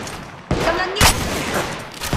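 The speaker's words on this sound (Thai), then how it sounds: "กำลังยิง" Rapid gunfire bursts from Apex Legends Mobile during Pathfinder third-person gameplay, sharp repeated volleys close and loud, with a brief lull before a second heavy burst.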